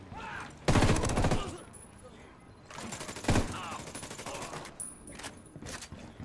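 An explosive charge goes off in the Ghost Recon Wildlands video game, a loud blast followed by gunfire bursts, another sharp blast and scattered shots with a voice in the background.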